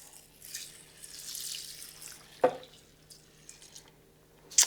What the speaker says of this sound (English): we're just gonna pour in that chicken broth